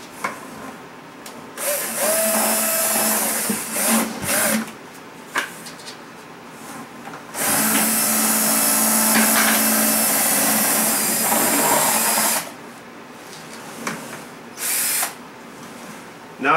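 A power drill fitted with a mixer churns homemade laundry detergent in a bucket, whirring loudly in two long bursts and several short spurts with quiet gaps between them.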